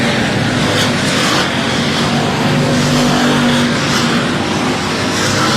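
Dwarf race cars roar around a Texas dirt oval at Texana Raceway Park, a dense, continuous engine drone from several cars battling in a pack, loud and unbroken throughout with no voices.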